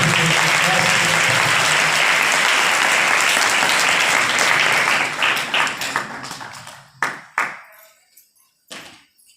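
A church congregation welcomes a visiting pastor with loud, full applause that holds for about six seconds, then breaks into a few scattered, isolated claps.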